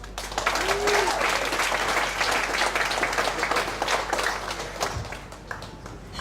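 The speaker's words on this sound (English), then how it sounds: "give a warm round of applause for Christian." An audience at an evening PechaKucha Night in Ubud, Bali gives a speaker a steady round of clapping. The dense applause comes up quickly, holds evenly for about six seconds and fades near the end, without clear speech.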